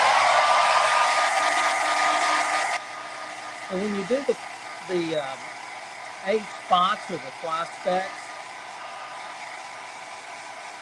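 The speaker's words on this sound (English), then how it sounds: "pardon for the noise, hair dryer." A hair dryer blows with a loud steady whoosh for a few seconds, then cuts off as a person starts talking.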